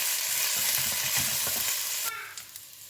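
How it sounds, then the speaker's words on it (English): Soaked rice is stirred in a pan with cumin and chilies, a wet, scraping shuffle over a steady sizzle; the stirring stops near the end as the sizzling fades. "Give it a stir."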